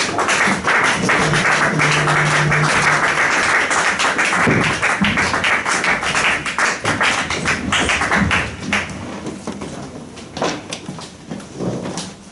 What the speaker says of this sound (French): nous applaudissons très très fort pour la gloire de Dieu